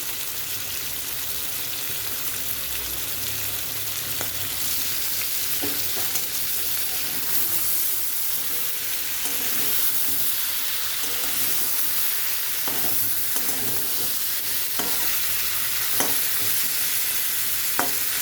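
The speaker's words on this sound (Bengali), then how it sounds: "আমি এখন এটা ভেজে নেবো ভালো করে" Chicken frying in a pan on a high gas flame gives off a loud, dense, unbroken sizzle and hiss, with occasional soft clicks and scrapes, heard up close and without speech.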